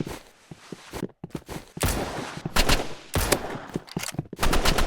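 Gunfire in the Roblox game Rivals, rapid bursts of automatic shots in loud, irregular volleys separated by brief gaps, close and punchy.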